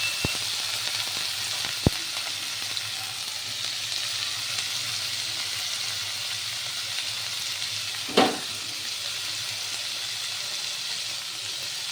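Cut potatoes frying in oil with browned onions, a steady close hiss and sizzle with a couple of faint clicks and one brief scrape partway through.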